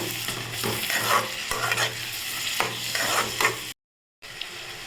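Onions and tomatoes sauté in a pan for a bitter gourd gravy, a steady close sizzle broken by scraping stirs, then a brief cut to silence.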